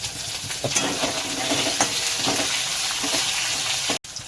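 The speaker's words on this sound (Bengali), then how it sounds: "পেঁয়াজটা একটু আট কাঁচা ভাজা হয়" Onion frying in a pan for khichuri, a loud, steady close-up sizzle with soft stirring scrapes throughout and a brief cut near the end.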